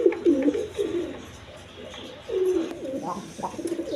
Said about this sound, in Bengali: এখানে কিছু কবুতর আছে, নর কবুতর, যার যেটা লাগে।